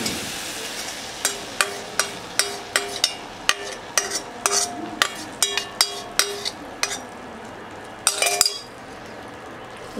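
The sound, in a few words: mixing spice mixture into raw chicken for kebab marinade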